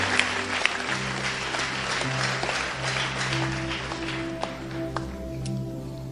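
Scattered audience applause during a broadcast prayer gathering, a steady patter of clapping over a sustained background hum and low tones, moderately close and continuing for several seconds without speech.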